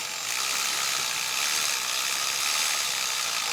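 Someone works a ratchet to tighten the bolts on a lower radiator hose while rebuilding a Subaru EJ25 engine from a WRX/STI. The clicking whir runs steady and close for several seconds.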